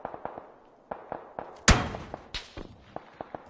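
Gunfire from a tactical shooter game rings out as sharp, irregular shots, one louder burst in the middle among fainter distant pops, with no voices.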